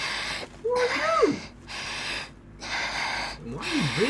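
Heavy, loud breathing close in the ear from a character in the video game Tales of Arise: long noisy breaths rise and fall, mixed with short voiced, moaning sounds.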